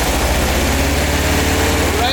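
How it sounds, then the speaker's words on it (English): A car engine idles roughly and lumpily at close range, a loud low rumble that runs steadily throughout with an uneven pulse. "The idle a little lumpy."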